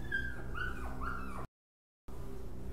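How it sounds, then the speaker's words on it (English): A dog in the horror game Rewind or Die whimpers and yips, a few thin rising whines over a low hum, followed by a brief total dropout. "Is that a dog?"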